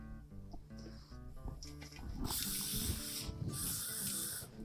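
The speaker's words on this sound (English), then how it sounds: "to spritz it with hairspray." Hairspray is spritzed onto long hair styled for a Regency outfit, two close, loud hissing bursts, the first about a second long and the second shorter, over faint background noise and tones.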